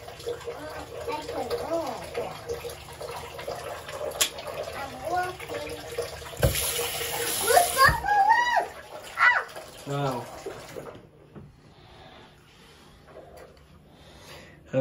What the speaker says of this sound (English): I'm gonna add a little bit of water, Liana.